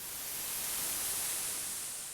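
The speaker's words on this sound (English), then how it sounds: "With the built-in filter, the noise can have its tonality changed to be more like pink noise or other noise types" Filtered noise from the noise generator of the Rippler synth plugin, a steady hiss shaded bright and airy, held evenly for about two seconds with no other sound.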